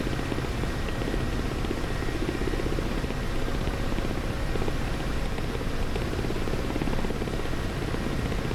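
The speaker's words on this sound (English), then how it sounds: "we can start to hear the blades make a different noise" Steady broadband whooshing of Ka-50 helicopter rotor blades in the DCS World flight simulator, a dense, constant drone without pauses or voices.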